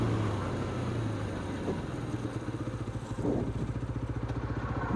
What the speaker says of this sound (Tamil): I'm going to hit the back brake.